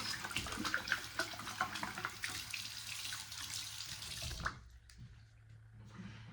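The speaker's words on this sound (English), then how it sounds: "And of course, rinse it out." A kitchen or bathroom tap runs as something is rinsed under it, a steady faint hiss of splashing water with small clatters, ending with the flow shut off and a quiet tail.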